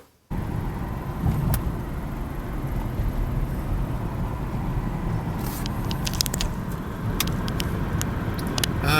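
A truck driving through a quiet town at night, heard from inside the cab as a steady low rumble of engine and road noise, with faint clicks and ticks over it.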